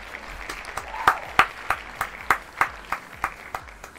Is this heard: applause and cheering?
yes